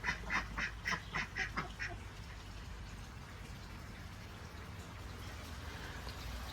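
Ducks quack in a quick burst of repeated calls at the start inside a backyard poultry pen shared with chickens, then give way to a steady rain-like hiss and low background rumble.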